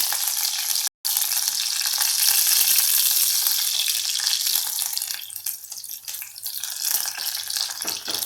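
Food frying in hot oil until reddish brown, a loud, close, hissing sizzle that runs steadily apart from a momentary dropout near the start.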